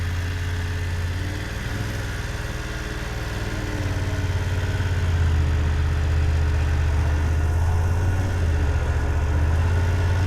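A motorcycle engine idles and putters steadily during a slow-speed U-turn and serpentine riding exercise, with a gentle rise in low rumble partway through and no talk.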